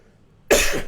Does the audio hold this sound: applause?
no